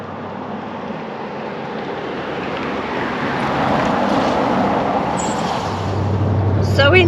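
A car engine idles steadily inside the vehicle on a cold, rainy morning, a loud continuous rumble with a hum that rises slightly toward the end.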